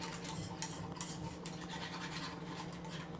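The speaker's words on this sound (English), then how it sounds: "And then you're going to whisk it." A whisk scrapes rapidly around a bowl, giving a soft, continuous, faint scratchy swishing with a few sharper ticks against the sides.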